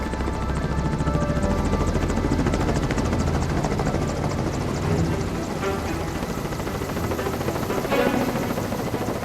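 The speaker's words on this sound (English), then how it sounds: "This was the helicopter that began the rescue of 52 people trapped in the Antarctic." A rescue helicopter in Antarctica thunders close overhead, its rotor chop a loud, continuous throbbing roar that swells slightly as it passes.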